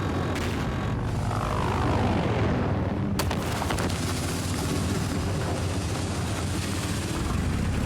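A low-flying aircraft roars close by in a Battlefield 4 conquest match, a loud, steady engine drone over constant rumble, with a sharp burst partway through and no voices.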